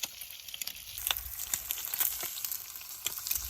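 Bacon and eggs fry in a pan after a day of hiking, giving a close, continuous crackling sizzle full of quick pops and spits, with nobody talking.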